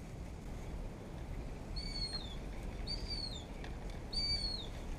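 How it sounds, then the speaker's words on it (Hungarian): Female western marsh harrier giving territorial calls over a lake landscape, three thin high descending cries spaced about a second apart, distant against a steady outdoor hush. "A tojó messze hangzó kiáltásával jelzi a fajtársaknak, hogy ez itt az ő területe."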